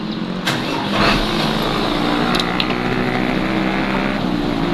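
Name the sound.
car engine being started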